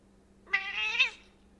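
A cat gives one unhappy, drawn-out meow, close and clear, rising then falling over about half a second against a quiet background with a low steady hum.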